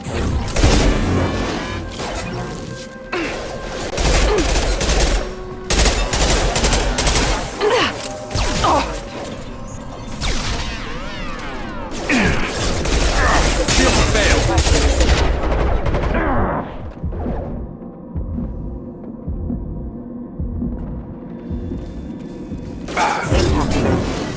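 Combat gunfire in the video game Mass Effect 2: repeated loud bursts of automatic shots and impacts, with booms and mechanical clatter, dense for most of the stretch, then thinning toward a quieter end before a final burst.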